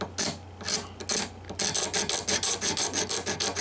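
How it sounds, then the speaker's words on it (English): A maple guitar neck is sanded with 120 grit sandpaper in quick, rhythmic close rasping strokes, a few slower passes first, then a steady fast back-and-forth. "120 grit sandpaper going this way to open up the pores of the maple"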